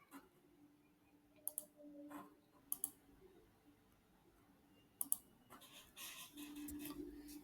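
A computer mouse clicking while navigating a reference manager, a few isolated sharp clicks spaced out over quiet background, very close and soft, with a faint rustle near the end and no talking.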